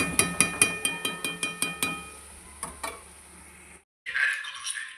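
A spoon clinks rhythmically against a cooking pot of mango pickle simmering with jaggery, about a dozen quick, evenly spaced taps, then a couple of scrapes, a brief silence and a soft final clatter.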